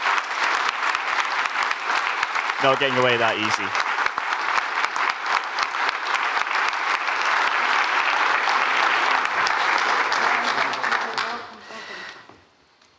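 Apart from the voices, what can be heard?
audience applause at an awards ceremony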